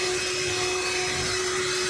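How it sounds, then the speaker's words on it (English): Black+Decker dustbuster furbuster AdvancedClean+ cordless pet handheld vacuum running close by, a loud steady whine with a constant motor tone and no pauses. "The reason why I bought this vacuum cleaner was to get this done here at the house."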